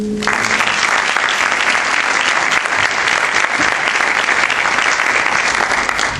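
Audience applauding at an evening history lecture in Oliva de la Frontera, a dense, steady burst of clapping that fills the room at full strength throughout, with no speech over it.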